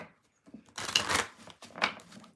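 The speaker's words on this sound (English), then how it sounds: "Thank you for being patient while I shuffle in between signs." Tarot cards being shuffled up close, two quick riffling bursts of papery flutter in a quiet room.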